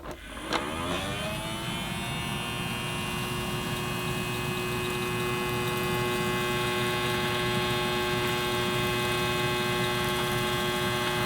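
A Theo Klein toy replica of the Miele Blizzard CX1 vacuum cleaner starts up and runs. Its motor spins up, then settles into a steady, even electric hum that continues without a break.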